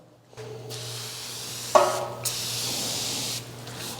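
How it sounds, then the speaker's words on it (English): Aerosol foam cleaner sprays onto a greasy part in a steady, close hiss lasting a few seconds, with a brief click as the nozzle is pressed and slight changes in the spray stream. "Now we're going to spray this part with the aerosol spray foam"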